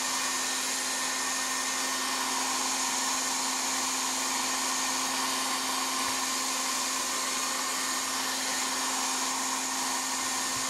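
A Philips Essential Care Compact 1200 W hair dryer blows continuously, a steady close whooshing roar with a constant whine, running alone without any talking.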